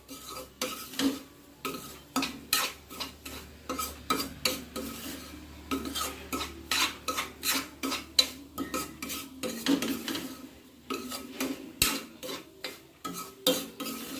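Semolina dry-roasted in a pan with pistachio and cashew powder, stirred steadily with a utensil that scrapes and taps the metal in a repeating rhythm over a faint low sizzle, close and with no talking.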